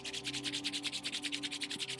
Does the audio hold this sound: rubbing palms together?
yes